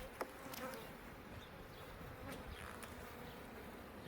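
Honeybees buzz steadily and close around an open beehive during a hot-day hive inspection, with individual bees whining past the microphone over a dense, quiet hum.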